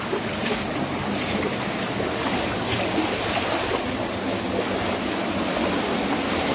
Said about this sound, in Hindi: ये है वो एक बड़ा वाला झरना